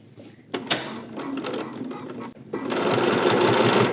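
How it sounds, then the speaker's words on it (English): A sewing machine top stitches the neckband of a New Look 6263 summer dress. It runs in a rapid close-up chatter, pauses briefly, then restarts in a longer, louder run. "I'm just going to go ahead and top stitch around this inner circle of the neckband."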